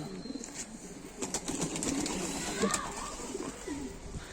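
Pigeons cooing softly nearby, with a brief flutter of wings and low background noise.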